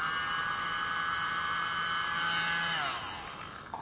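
Small blower running at slow speed over a fluid art pour, a loud steady high-pitched whir close by that holds for several seconds, then dips and winds down near the end.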